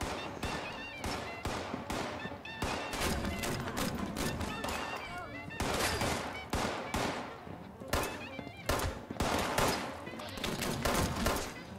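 Gatling gun firing in the video game Fallout 76, long rapid bursts of dense, steady gunfire with brief gaps between volleys, loud and close throughout almost twelve seconds.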